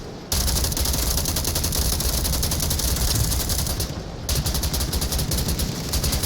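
Dense, continuous rapid gunfire in an Onward VR competitive match, loud sustained bursts with brief gaps, crackling and layered with no clear pauses.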